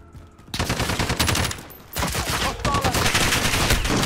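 Automatic gunfire in Call of Duty: Modern Warfare multiplayer, loud rapid bursts starting abruptly, pausing briefly, then resuming as sustained sprays of shots close by.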